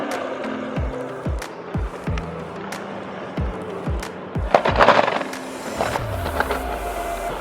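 A summer board, a street snowboard, rolls down a long paved hill, its wheels thumping rhythmically over pavement seams in a steady series of close, punchy knocks with a continuous grinding roll underneath that swells louder midway.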